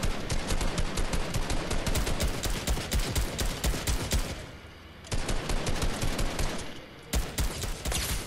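Rapid automatic AK gunfire in Fortnite Battle Royale rattles out in long, loud bursts, pausing briefly twice before resuming close and relentless.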